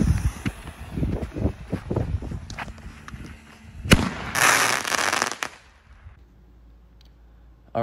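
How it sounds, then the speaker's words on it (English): Homemade starmine firework test: a string of sharp, close cracks and pops over the first four seconds, then a loud burst followed by a sustained hissing crackle lasting about a second and a half before it dies away to quiet. "firework mine test."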